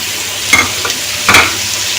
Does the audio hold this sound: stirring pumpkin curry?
yes